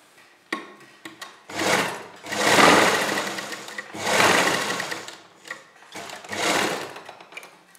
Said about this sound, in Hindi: यहाँ पर एक दाप टिप वाली सिलाई लगा लीजिए।